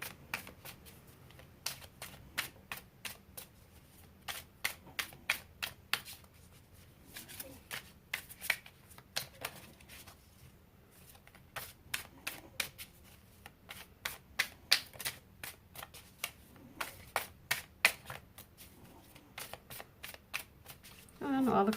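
Tarot cards being shuffled by hand: bursts of crisp riffling snaps and flicks come in repeated clusters, close and fairly quiet, with brief pauses between shuffles and a soft voice now and then.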